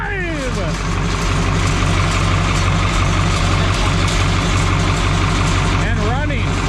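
An M&W Super 80 tractor, repowered with a new engine kit, idles close by with a steady, loud rumble. People talk briefly over it at the start and near the end.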